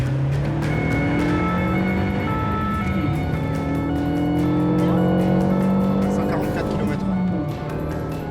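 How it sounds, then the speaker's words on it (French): A red car speeding on a road, its engine roaring loudly with rising and falling pitch, tires squealing, and a voice talking over it. "Cette voiture rouge dépasse largement la vitesse autorisée."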